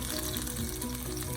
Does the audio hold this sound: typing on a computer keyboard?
no